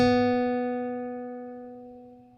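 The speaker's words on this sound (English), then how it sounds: "So clavichord." A clavichord patch in a DAW sounds one clear plucked note that rings and fades steadily over about two seconds, alone.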